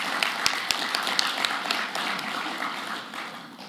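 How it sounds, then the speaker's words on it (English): Audience applause for a city police department at a mayor's address in Jackson, Tennessee, a broad steady wash of many hands clapping with a few sharper claps near the start, fading slightly toward the end. "If you don't clap for anything else, clap for that."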